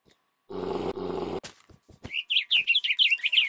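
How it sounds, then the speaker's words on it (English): Birds from the Mo' Creatures mod in Minecraft give a quick series of high chirps after a couple of growling roar-like bursts and some clicks. "it spawned three birds right"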